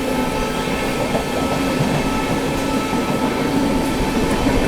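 Inside the 22361 Patna Amrit Bharat Express running through heavy rain, a loud, continuous rumble of wheels and carriage noise with a faint clickety-clack, steady and close throughout, no voices.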